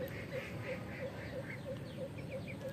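Ducks on a village duck farm quack faintly and far off in a steady, evenly spaced series of short calls over a low background hiss.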